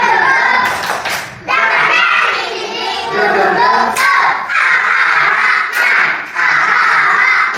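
A classroom of standing students claps in a rhythmic, cheering pattern, loud and close, with short gaps between bursts and voices calling out among the claps.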